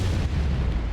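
Rocks break apart in an explosion in the video game Hollow Knight Silksong, giving a loud, dense, rumbling boom that fills the whole brief moment.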